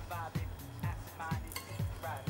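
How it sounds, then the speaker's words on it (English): Meat hitting hot olive oil in a pan over a medium-high flame, a soft sizzle under repeated utensil clinks and scrapes as it is stirred, with a voice speaking briefly. "Sizzling already, so be careful, turn your flame down slightly"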